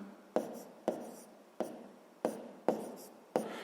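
A pen writes out a sixth-grade math solution on paper, making six short, crisp scratching strokes at a steady rhythm, each stroke close and sharp and then quickly fading, with quiet pauses in between.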